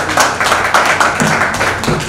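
An audience at a Hindu organisation's meeting claps for the guru, a steady rhythmic patter of many hands, fairly loud and close, with no talk over it.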